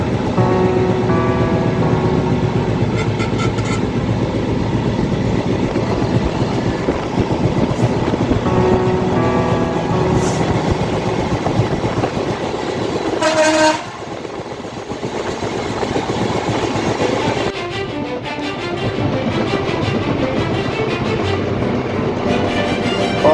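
Sundarban Express passenger train on the Dhaka–Khulna line rumbles steadily along the rails with rhythmic clatter, loud and close throughout, with a brief horn blast partway through.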